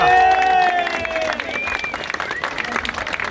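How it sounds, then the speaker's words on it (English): Audience applause at a presentation ceremony during a tavern's 190th anniversary party, a crowd clapping steadily under tonal music or feedback and some voices. "please give a round of applause to the Neir's 190 committee"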